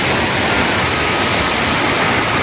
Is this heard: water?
yes